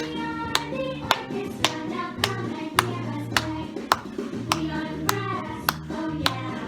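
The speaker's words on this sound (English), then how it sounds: "Stand up and start clapping with me." Sharp claps land on a steady beat about every two-thirds of a second over music, clapping along to a song about the instrument families.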